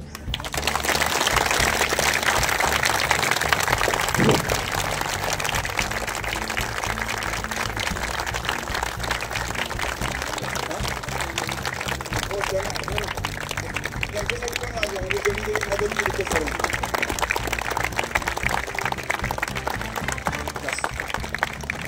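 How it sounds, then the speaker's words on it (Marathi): A crowd at a community fitness gathering applauds loudly, a dense, sustained wash of clapping that fills the whole stretch with little letup, with some voices mixed into the noise. "आता निदान यांच्या घरापर्यंत जातील एवढ्या टाळ्या वाजवा"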